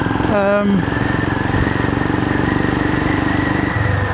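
A Royal Enfield Himalayan 411 motorcycle, freshly fitted with new valves, runs steadily on a road test with a loud, continuous engine drone that shifts pitch early on, as if revving, then settles.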